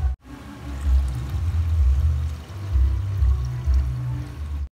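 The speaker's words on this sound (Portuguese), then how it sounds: "Agora eu vou cobrir de água aqui, né? Que é pra deixar cozinhar." Water pours steadily over seasoned meat in a cooking pot, a continuous low, full rush that lasts several seconds with no talk.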